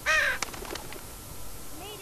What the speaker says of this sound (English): That bird right next to me.